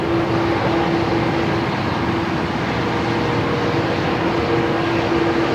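A Boeing 787 Dreamliner arrives from Singapore at Melbourne Airport, its engines producing a steady, fairly loud broadband roar with a faint sustained hum and no change in level over the few seconds, without any talk.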